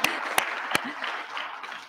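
Audience applause at a college academic awards ceremony, a soft, fairly distant patter of clapping with a few sharper claps near the start, steady and moderate throughout.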